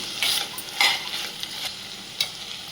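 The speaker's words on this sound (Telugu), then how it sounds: "కొంచెం ఫ్రై అయిపోయింది ఆయిల్లో మునక్కాయ. ఇప్పుడు మనం వంకాయలు యాడ్ చేసుకున్నాము." Drumsticks and brinjal frying in oil in a pan, a steady soft sizzle with several sharp bursts of stirring and spatter, close up and alone.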